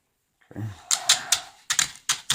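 Tape being pulled and torn off a roll in a series of sharp, crackly rips, close and fairly loud, with no talking.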